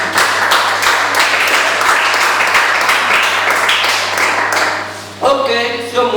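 A church congregation claps in a dense, continuous round of applause that holds steady before thinning near the end, with a few louder individual claps close by.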